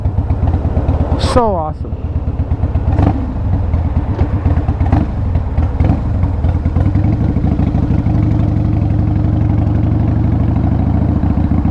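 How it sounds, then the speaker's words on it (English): Harley-Davidson CVO Wide Glide with a TC88 V-twin engine idles steadily outdoors, its low throbbing rumble continuous throughout, while someone speaks briefly over it near the start. "listening to the sound of a TC88"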